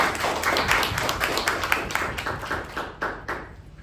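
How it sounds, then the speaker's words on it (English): A round of applause at a Toastmasters club meeting for an evaluator and speaker, a small group's brisk clapping with distinct hand slaps that is strongest at first, then thins toward a few scattered claps at the end. "let's hear a round of applause"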